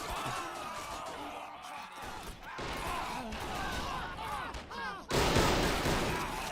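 Machine gun fire in a WW1 game set on the Italian front, a continuous rattle of rapid shots mixed with scattered rifle cracks and impacts, moderately distant, with a louder surge of firing near the end; no one talks over it.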